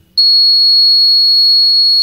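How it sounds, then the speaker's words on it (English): A GSM vehicle fuel theft detection system sounds its electronic buzzer: a single loud, steady high-pitched tone that starts abruptly and holds continuously, with a faint click near the end. "the buzzer will be turned on"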